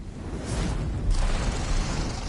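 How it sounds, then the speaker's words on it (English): A giant explosion in the fantasy role-playing game Divinity: Original Sin 2, a sustained rumbling boom with a heavy low end that swells and holds steady for a couple of seconds. "this giant explosion"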